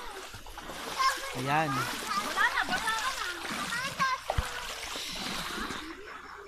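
Water splashing in a small creek in a rural province, with bursts of splatter and sloshing running under children's and adults' voices talking close by throughout.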